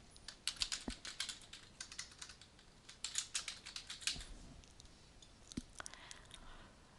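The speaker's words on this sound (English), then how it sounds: "you can type in a new name for that right here in the title box" Rapid, quiet keystrokes sound from a computer keyboard as a name is typed into a title box. The soft clicking comes in irregular bursts, close but faint.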